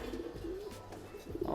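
Pigeons in a breeding loft give soft, low throaty coos, a couple of rolling calls close by amid rustling and background noise.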